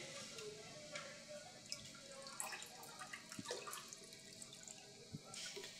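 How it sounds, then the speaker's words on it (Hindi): Soft splashing and trickling as soaked rice is poured into boiling water, with scattered small drips and clinks, fairly quiet and close, no voices. "अब इन्हें मैंने डालना है इस उबलते हुए पानी में।"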